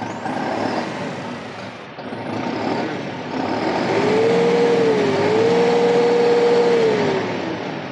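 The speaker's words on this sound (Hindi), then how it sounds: "हम आपको इस ट्रैक्टर को स्टार्ट करके इस ट्रैक्टर के आरपीएम दिखाते हैं" A tractor engine with a 2500 rated RPM rumbles at idle, then revs up and holds a higher, steady whine before easing back down.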